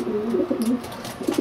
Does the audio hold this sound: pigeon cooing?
yes